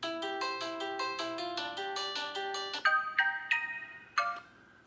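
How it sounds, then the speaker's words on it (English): Volume confirmation tone on a Xiaomi Mi3 phone running MIUI: a soft, quick series of short electronic chime notes, followed by a few louder, more spaced bell-like tones, with no one speaking. "it'll also give you an auditory confirmation of how loud that will be."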